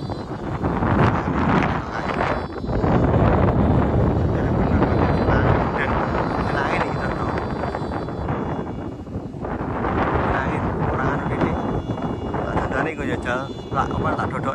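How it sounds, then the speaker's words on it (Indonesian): Strong wind buffets the microphone outdoors while a kite is flown, producing a loud continuous roaring gust noise with voices speaking over it. "angin gede muncul"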